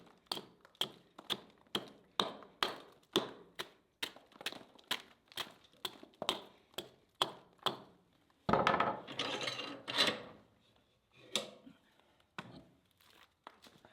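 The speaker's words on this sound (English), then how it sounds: "I'm just going to chip a little of this softwood off for the clamp" Softwood chipped off a cherry log: a steady series of sharp close knocks, roughly two per second, then a rougher crackling burst of wood splitting, followed by a few scattered taps.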